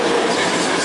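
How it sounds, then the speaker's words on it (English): A train moves at a railway station, a broad steady rumble and rattle of cars rolling along the track, close and loud throughout with no clear gaps. "Ooh, there's a train."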